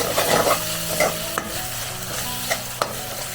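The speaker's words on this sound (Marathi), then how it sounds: "मसाले चांगले भाजून घ्या दोन मिनटं" Masala spices, including coriander and cumin powder, are stirred and roasted in a pan over a low flame, with loud scraping strokes, sharp spoon clicks and a constant sizzle, and no talking.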